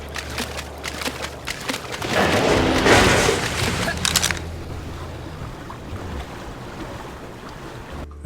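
A raft glides over water in the mobile survival game ARK Mobile, giving a continuous wash of waves and wind noise that swells in the middle and then settles, steady and moderately loud with no speech.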